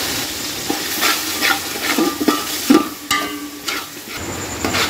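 Ground spices (cumin, coriander, black pepper, turmeric and chili powder) fry and sizzle in a pan for chicken kabsa, with close scraping stirs and soft knocks against the pan recurring throughout, and no talking.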